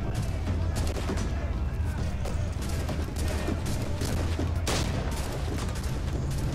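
Guns fire in the video game Assassin's Creed IV: a dense, continuous barrage of overlapping shots and booms with sharp louder blasts, and a voice speaking intermittently beneath the din.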